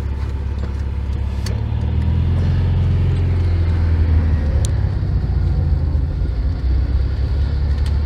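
A 1975 Volkswagen 1200 air-cooled engine idling just after starting, a steady low rumble close by with faint clicks and knocks over it, running on without a break.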